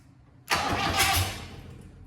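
A Land Rover Series 3 with a 2.5 naturally aspirated diesel, not started in eight years, bursts into life abruptly and settles into a loud, rough, clattering run that eases slightly as it catches.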